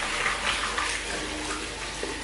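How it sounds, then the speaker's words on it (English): Running water rinses a shaving brush under a tap, a steady close splashing hiss that holds evenly throughout without pause. "I'll just quickly rinse that brush out"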